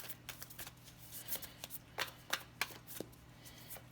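Spirit animal oracle cards being shuffled by hand, a soft, close series of papery riffles and flicks in an uneven rhythm, faint and alone.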